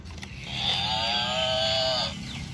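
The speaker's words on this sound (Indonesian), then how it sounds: "Seperti ada suara kerbau nih teman-teman." A water buffalo gives one drawn-out, loud moaning call lasting about a second and a half, with a low rumbling hum underneath.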